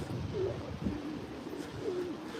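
Pigeons cooing softly outdoors on a city street, a few low warbling coos rising over steady background traffic noise.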